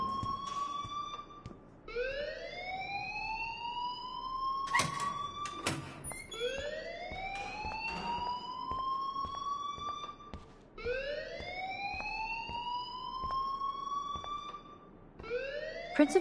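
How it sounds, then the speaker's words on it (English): A rising, whooping electronic alarm in a video game repeats in regular sweeps roughly every three seconds, loud and continuous, with a few sharp clanks and door-like bangs in between. "please turn off that alarm since that's your job."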